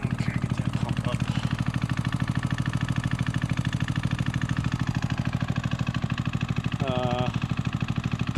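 Dahlke Micro 4B mini dredge pump engine running hard at high throttle, a loud steady drone close by throughout, with a brief voice cutting in near the end.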